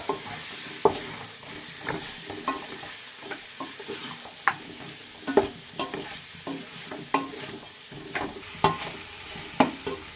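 Four medium tomatoes fry in a pan for chicken biryani, a continuous low sizzle broken by regular scraping stirs of a spoon, close and steady with no talking.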